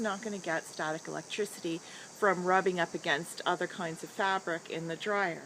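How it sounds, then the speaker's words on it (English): A high, steady insect buzz drones in the background while a person talks continuously over it in the foreground. "That's going to be the cicadas telling us it's hot"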